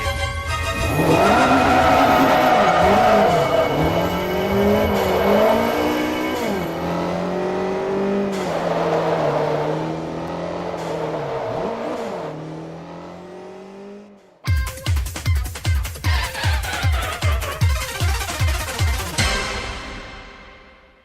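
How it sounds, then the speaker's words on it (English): A modified Honda Civic CR-X engine revs hard and climbs through the gears as the car is driven fast. It is loud and close, then gives way to a rapid, pulsing mechanical rhythm near the end. "Manuel loaded the mouse into the passenger seat of his modified Honda Civic CR-X and drove back to his apartment as fast as he could go."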